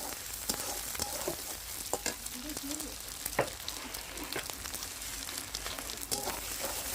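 Whole eggs frying with bottle gourd in a pan, giving a steady, close crackling sizzle broken by scattered clicks and scrapes of stirring.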